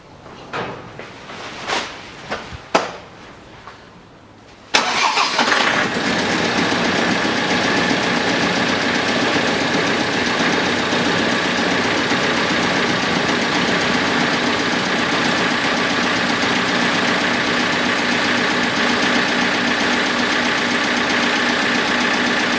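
A 2013 Land Rover Defender diesel engine after a fuel filter change: some clunks and rattles, then the engine fires and settles into a loud, steady, even idle heard close for nearly twenty seconds.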